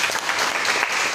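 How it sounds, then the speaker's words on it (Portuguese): Church congregation applauding during a worship service, a steady dense wash of many hands clapping, close and continuous for the whole moment with no voices over it. "Você pode aplaudir o Senhor?"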